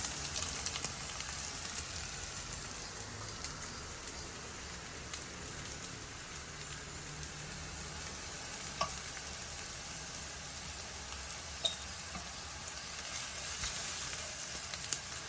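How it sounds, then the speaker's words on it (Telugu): Sliced onions with ginger-garlic paste fry in a pan for a ridge gourd and moong dal masala curry. A faint, steady sizzle carries scattered small crackles and pops throughout, with no talking. "అల్లం వెల్లుల్లిపాయ పేస్ట్ ఉల్లిపాయలు బాగా వేగుతున్నాయి కదా"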